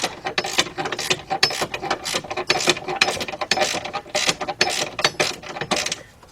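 A ratchet clicks in quick repeated bursts, tightening a bolt on the 2.7 engine of a 2006 Kia Sportage during a rebuild, close and fairly steady with light metallic rubbing between strokes.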